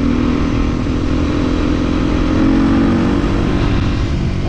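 Continuous loud motorcycle engine drone while riding through forest, steady and close, with wind rush and no talking.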